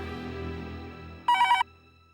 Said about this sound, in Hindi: कब से फोन बज रहा है?